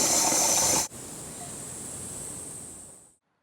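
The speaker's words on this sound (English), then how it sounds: "So in with the water. I'm going to fill this up to the 10 litre mark." Water pours into a garden sprayer tank being filled to the 10-litre mark, a loud rushing hiss that drops suddenly to a steadier, thinner flow before stopping.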